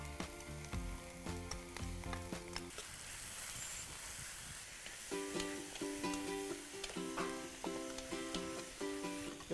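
Chicken pieces frying in hot oil with cut lemongrass and minced shallots, a steady crackling sizzle running throughout under a loud, rhythmic melody in the background.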